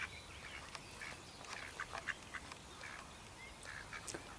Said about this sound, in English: Nice birds when you see them close up.